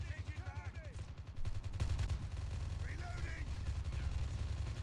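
M4 rifle in Call of Duty Mobile team deathmatch firing rapid automatic bursts, a steady dense rattle of shots that continues unbroken through most of the stretch, with game sounds layered over it.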